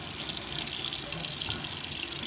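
Hot water runs steadily from a bathtub faucet indoors, a close, even hiss of flowing water with no break and no voices.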